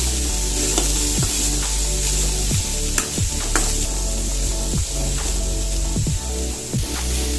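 Masala sundal of chickpeas with grated carrot is stirred in a pan, giving a close, constant sizzle broken by regular scraping strokes of the spoon every second or so.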